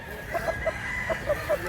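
At a fighting-cock farm in Mantalungon, Cebu, roosters make short repeated clucks against a steady hum of other birds, mid-distance, no talking.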